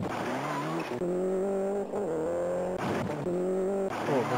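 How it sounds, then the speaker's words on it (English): Racing car engine in a Jaleco arcade racing game, sounding unhealthy: a loud, steady engine drone with strong harmonic tones, briefly dipping and resuming several times as gears or throttle change. "My car doesn't sound that healthy"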